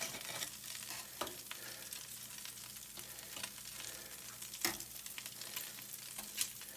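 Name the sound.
omelette with spinach being turned over in the frying pan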